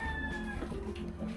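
A single short cat meow, fairly faint, with soft background noise and no talking.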